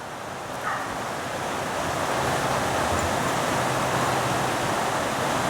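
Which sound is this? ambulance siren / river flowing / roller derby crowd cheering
river flowing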